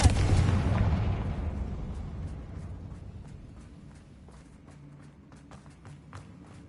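A fiery Confringo spell blast in the Hogwarts Legacy video game, a loud booming explosion at the start that decays into a long rumbling tail, followed by faint scattered pops and clicks.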